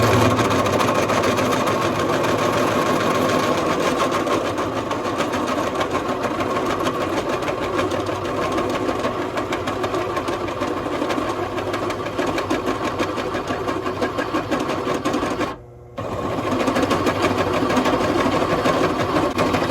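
Belt-driven drill press at 470 RPM boring 3/4 inch holes in 1/2 inch thick stock, a continuous motor drone and cutting whir that runs without a break except for one short pause near the end.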